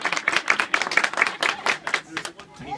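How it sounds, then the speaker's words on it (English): A small tour group at the Mystery Spot in Santa Cruz, California claps in a brief burst of close, uneven handclaps that thins out toward the end, with a voice starting up under the last claps. "Let's give them all a big round of applause."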